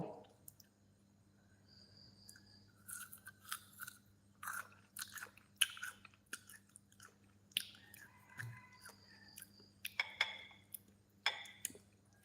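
Crispy, salty-sweet golden snack gets crunched and chewed in close, quiet bites, irregular crackling bursts scattered across a hushed room with a low steady hum underneath.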